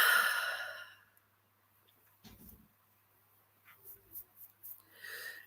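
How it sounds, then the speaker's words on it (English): A deep breath drawn in and released as a long, soft airy sigh up close, followed by quiet, faint breathing sounds. "let's all take a deep breath"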